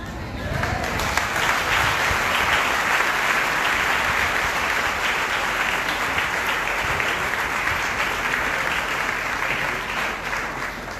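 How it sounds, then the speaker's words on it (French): A church audience applauds steadily and loudly for about eleven seconds, a dense continuous clapping that holds at an even level throughout. "mesdames et messieurs, vos applaudissements"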